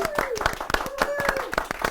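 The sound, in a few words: classroom clapping, round of applause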